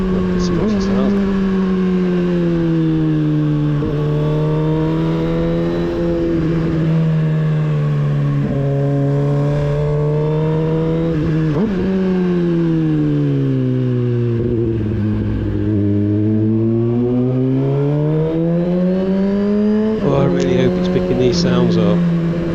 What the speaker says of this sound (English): It sounds so good, this bike. It sounds amazing.